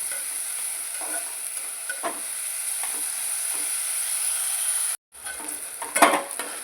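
Chopped onions sizzle and fry in a pan, browning toward golden, with a steady hiss and several soft scrapes of stirring. A brief gap near the end breaks the sizzle before it resumes with a louder stir.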